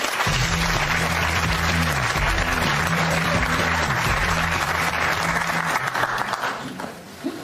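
Studio audience applauding a guest on a television panel show, a sustained dense round of clapping with a low music bed underneath, fading out near the end.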